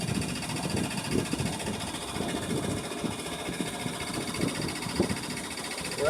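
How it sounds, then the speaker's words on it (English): A small boat motor runs at full throttle, a steady rumbling drone with water rushing and choppy low thumps, fairly faint and continuous throughout. "we're going to just do full throttle for a minute and see how fast we're going to go with this little motor"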